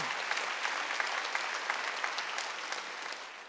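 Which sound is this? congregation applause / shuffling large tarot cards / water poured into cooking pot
congregation applause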